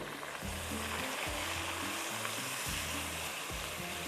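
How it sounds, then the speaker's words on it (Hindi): Lauki halwa ingredients sizzle and fry steadily in a large open pan while a wooden spoon stirs them in repeated strokes, with a low rhythmic scraping under the continuous crackle. "थोड़ा थोड़ा इसको लकड़ी के चम्मच से घोटते जाएंगे"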